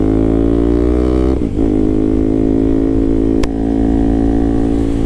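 KTM RC200 motorcycle fitted with a loud SC Project exhaust, revving hard close up: a loud, sustained engine roar that briefly drops and stutters before climbing and holding high again, with a sharp crackle partway through.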